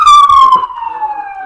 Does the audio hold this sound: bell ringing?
no